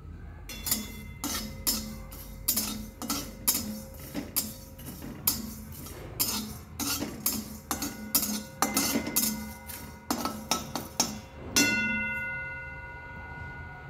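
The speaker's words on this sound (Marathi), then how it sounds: "तर एकसारखं हलवत राहायचं आणि हे मसाले भाजून घ्यायचे" Whole spices dry-roasting in a pan, stirred constantly: a rhythmic series of sharp metallic scrapes and clinks, close and fairly loud, ending with a ringing clank of the pan.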